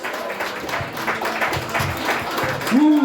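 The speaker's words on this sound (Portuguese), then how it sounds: "Primeiro deu uma bela salva de palmas com glória a Deus" Church congregation giving a round of applause, clapping mixed with shouts of praise and a voice rising at the end, all close and loud.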